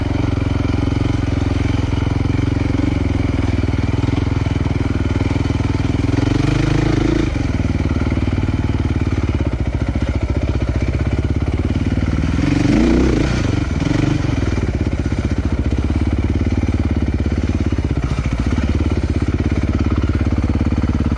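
A Honda trail motorcycle rides the Rampart Range trails, its engine droning steadily and loudly throughout, rising and falling with throttle changes and rough-ground clatter, with no talking.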